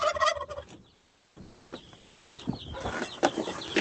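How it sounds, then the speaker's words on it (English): Farm birds, chickens and guinea fowl, call in a busy outdoor flock, with loud bursts of squawking and chattering after a short quiet stretch, close by and overlapping. "Oh man, look at all these birds."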